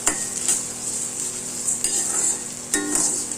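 Rock salt dry-roasting with spices in a hot pan for garlic powder, scraped and stirred with sharp metallic clinks at intervals over a faint steady hiss, no voices.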